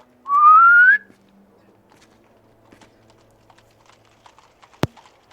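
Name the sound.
whistle imitated by a voice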